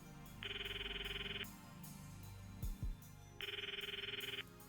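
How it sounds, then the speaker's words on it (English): Phone ringtone in the Steins;Gate visual novel game: two repeated electronic ring bursts, each about a second long with a gap between, over quiet game background sound and a couple of low soft thuds, with no voices. "The ringtone echoes in my ears. It's not connecting."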